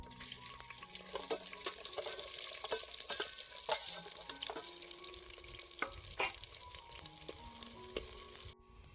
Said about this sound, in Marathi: तेल तापलेलं आहे आता तेलामध्ये आपल्याला हा द्या हा कांदा फ्राय करून घ्यायचा आहे